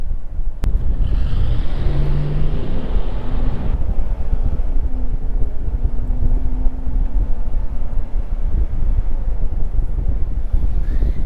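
Interior of a 2003 Chevy Suburban 2500 4x4 under acceleration, with a loud, heavy low engine drone and rising tonal hum over steady road and wind rumble.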